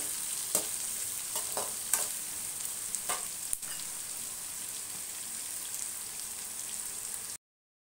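Onions sizzle and fry in a pan, a steady crackling hiss with a few sharper pops and stirring clinks early on, continuing alone before cutting off abruptly.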